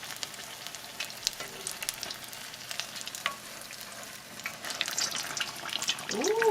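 Battered fish frying in hot oil at about 350 to 375 degrees, a steady crackling sizzle with brief stirring noises, continuous and close, no talk.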